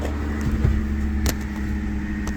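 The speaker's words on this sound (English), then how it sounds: "Let's give it some throttle." A 1984 Toyota Celica Supra engine runs cold at a steady idle with a low, continuous drone and a slight rise as throttle is given, plus a couple of faint clicks, with no voices.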